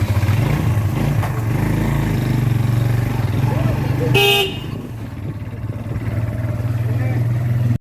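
Motorbike ride through traffic, with steady engine and road rumble throughout and a short, loud car horn toot partway through.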